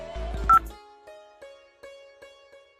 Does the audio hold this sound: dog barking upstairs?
no